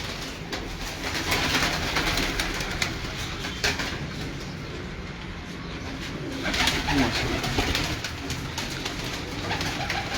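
Pigeons coo softly and repeatedly from a rooftop loft, with occasional wing flaps amid a noisy outdoor background and no talk.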